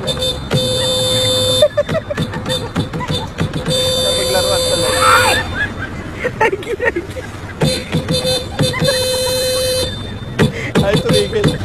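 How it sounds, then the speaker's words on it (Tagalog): A car horn honks repeatedly in loud, uneven bursts while people talk and someone seems to join in with the honking. "Sumasabay sa busina."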